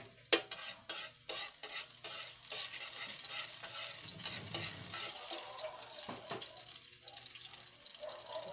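Garlic sautéing in a pan, a close sizzle with repeated scraping stirs and utensil clinks, fairly quiet and uneven over several seconds.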